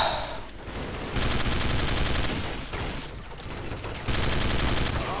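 Counter-Strike: Source gun game match with sustained automatic gunfire crackling in dense, loud bursts across the whole stretch, interspersed with scattered game effects and no voices.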